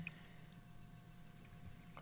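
Watering crops in The Sims 4, heard as a soft, steady running-water wash with faint drips, quiet and continuous, with no voices.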